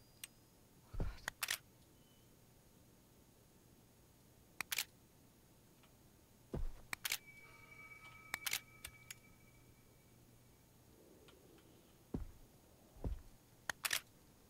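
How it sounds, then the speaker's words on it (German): Camera shutter clicks without flash in the horror game Visage, several sharp isolated clicks spaced seconds apart over a quiet, hushed background. "Ich kann keinen Blitz mehr machen."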